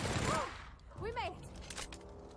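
Gunfire from a character's weapon in The Outer Worlds video game, a few quick bursts with zapping, sweeping tones mixed into busy game sound, moderately faint overall.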